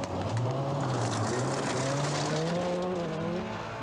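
A rally car revs hard along a dusty Scottish Rally stage in 1988, the engine note climbing and falling through gear changes with some tyre scrabble. It sounds close and continuous, with no talking.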